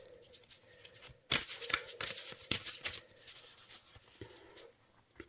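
Oracle cards are shuffled by hand in quick papery riffles and slides, a burst of crisp rustling near and fairly quiet, with no talking.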